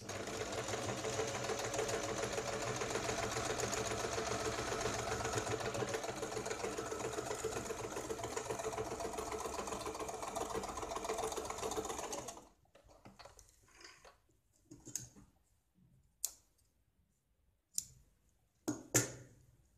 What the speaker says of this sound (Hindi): इसको हम दोनों साइड से सिलाई लगाएंगे